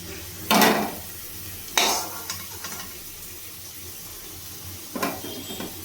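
Potatoes fry until reddish in oil in a kadai, with a few short, close bursts of sizzle and stirring that stand out over a quiet, steady frying hiss.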